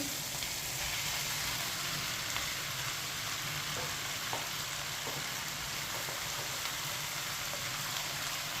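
Boiled macaroni being stirred in a sizzling pan, a steady, dense frying hiss running throughout with faint scraping of the spoon, close and continuous with no talking.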